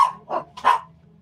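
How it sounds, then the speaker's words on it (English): A dog barks three times in quick succession close by, short sharp yaps against an otherwise quiet background. "Sorry about my dog."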